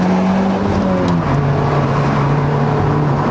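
A 2018 Honda Civic Type R accelerating at full throttle, heard from inside as a loud steady engine drone rising then settling in pitch after a shift, with road and wind noise throughout.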